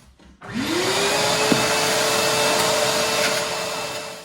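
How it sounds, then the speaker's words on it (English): A vacuum cleaner, or hoover, starts up and runs as it cleans a model railway, its motor rising quickly to a loud, steady roar with a whining hum that holds for several seconds before easing slightly. "Another useful tool for model railways is a hoover."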